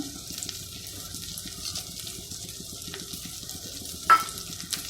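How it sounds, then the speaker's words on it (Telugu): Fried dried prawns going into a tomato curry cooking on the stove, heard as a soft continuous sizzle with light stirring scrapes and one brief clink, close and quiet, no talk. "ఇప్పుడు అందులోకి ఫ్రై చేసి పెట్టుకున్న ఎండ్రాయిలు వేసేద్దాం"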